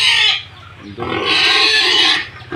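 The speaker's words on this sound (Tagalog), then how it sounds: "Nandito kami sa babuyan, mga baboy. Marami tayong baboy dito, pala." Pigs grunt and squeal loudly in bursts at a crowded Philippine pig farm, with dense animal noise filling the space and a short quieter lull in the middle.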